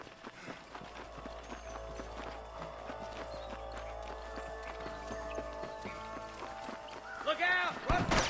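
Horse hooves in Red Dead Redemption clip-clop in a steady galloping rhythm throughout, mixed with other game sounds and a brief louder burst near the end.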